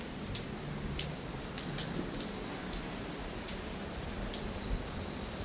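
Steady rain patters outdoors, with scattered sharper drips standing out from the constant wash of noise; no one speaks.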